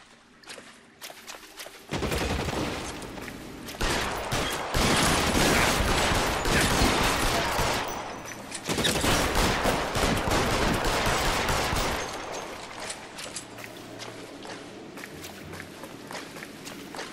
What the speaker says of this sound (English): Who has a machine gun?